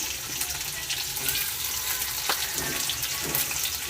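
Onions and green chillies sizzling in hot oil with curry leaves and cumin in a pan, a steady, close, even frying hiss with faint stirring ticks and no talk.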